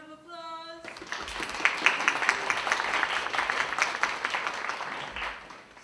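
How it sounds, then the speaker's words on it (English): After a brief sung tone, an audience breaks into lively clapping that carries on steadily, fairly close and moderately loud, to the end. "let's give her a round of applause."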